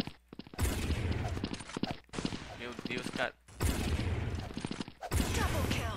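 Sniper rifle shots in the shooter game Blood Strike, several loud sharp blasts in quick succession, each followed by a brief pause, with a voice exclaiming between them.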